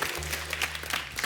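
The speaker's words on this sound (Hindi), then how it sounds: "इनके लिए जोरदार तालियां" A crowd at a live stage comedy show bursts into loud, dense applause. It sounds sustained and near, with a low steady hum underneath.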